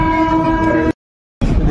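A passenger train passing through Bandel Junction gives a loud, steady horn blast close by, broken by a brief dropout before it resumes.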